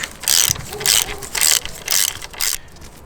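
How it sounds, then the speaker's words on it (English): Ratchet wrench tightening hex 6 bolts at the brake pedal while fitting an OEM center stand on a Suzuki V-Strom 800, with five loud, close bursts of rapid clicking separated by short pauses. "Let's install back the 2 hex 6 bolts, one on top of the brake pedal and one on the bottom."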